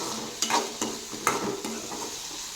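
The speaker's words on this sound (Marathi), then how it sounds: "हे बघा तोंडली आता छान तेलामध्ये फ्राय झालेली आहे" Ivy gourd (tondli) in hot oil gives a steady sizzle of frying, with a few sharp clinks and scrapes as a utensil stirs the pan.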